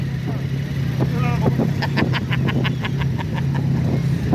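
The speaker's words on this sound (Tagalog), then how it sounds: "mga sasakyan na rin ang paalis" Vehicles rumble past with a steady low engine drone, mixed with voices and bird-like chirps in the background.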